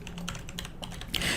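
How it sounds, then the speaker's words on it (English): Rapid clatter of keys on a loud computer keyboard, close and steady, with no voices. "Forgive my noisy keyboard."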